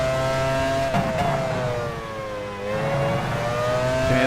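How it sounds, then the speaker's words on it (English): A racing engine in the video game F1 Challenge 99-02 whines at high pitch, revving up and dropping with choppy, stuttering bursts as traction control cuts power in and out. "You can hear the traction control trying to be my friend."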